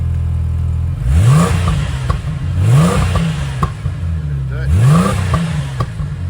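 A Ford FG XR6 engine is revved three times on its first start-up, each blip rising and falling in a smooth, fairly quiet exhaust note with a slight pop, heard up close over a steady idle.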